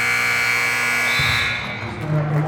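A loud electronic buzzer sounds at the end of the first quarter of a high school girls' basketball game, holding a sustained tone before cutting off into gym crowd noise.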